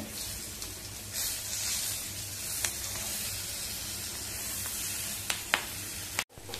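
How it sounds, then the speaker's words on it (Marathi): Green chillies sautéing in tempering oil on a medium flame, a steady close sizzle and hiss throughout, with a few brief clicks of stirring near the end, no voices. "मिरच्या चांगल्या परतवून घ्यायच्यात आपल्याला."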